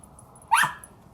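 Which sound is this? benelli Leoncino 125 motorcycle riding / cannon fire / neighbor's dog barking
neighbor's dog barking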